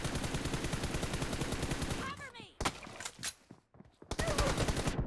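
Bursts of automatic gunfire in the mobile battle game PUBG Mobile, dense rapid shots for two seconds, then scattered single cracks and short bursts after gaps, close and loud.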